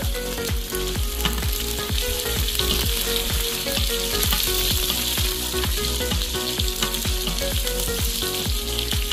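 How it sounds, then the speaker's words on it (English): Red onion slices and green chilies sautéing in an Instant Pot, a steady dense sizzle with a regular rhythmic scrape of stirring throughout, close and loud with no talk. "We'll saute it until the onions are golden brown."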